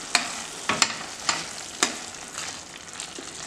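Aloo matar kurma with coriander stirred in a pan on the stove, a spoon scraping and clacking several times over a steady soft sizzle.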